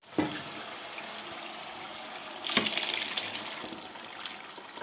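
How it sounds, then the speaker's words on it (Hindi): Chickpeas and their cooking water poured into fried tomato masala for Lahori murgh cholay, a steady watery gush that swells into a louder, splashier pour midway and carries on to the end. "पानी के समेत हम चने इसमें डाल देते हैं"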